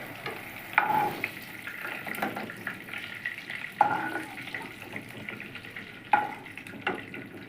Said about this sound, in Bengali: এবার এই তেলেই বন্ধুরা আমি ডিমের বড়াগুলোকে ভেজে নিচ্ছি